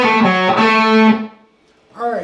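A distorted electric guitar plays a short riff, a few gritty notes ringing and fading, followed by a brief bit of talking.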